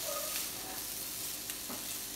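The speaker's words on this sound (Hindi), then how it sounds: "और इसको दो तीन मिनट अच्छे से भूनिए।" Potatoes coated in spices and cumin sautéing in a pan, a faint, soft sizzle with occasional light scraping from stirring.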